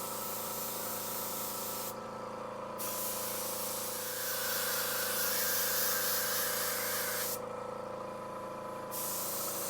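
An airbrush sprays in a continuous soft hiss with a steady mechanical hum beneath it, briefly dipping twice, in a woodworking shop setting.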